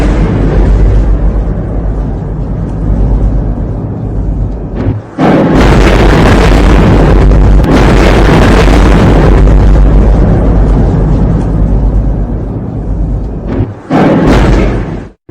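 Explosion from an attack in Jordan, heard indoors as curtains blow: a sudden loud blast and deep rumble erupt after a steady low roar, with a second sharp burst near the end.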